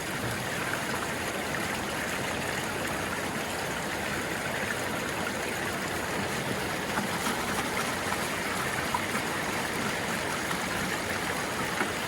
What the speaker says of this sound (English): Now I'm going to get a little bit of water in the bucket.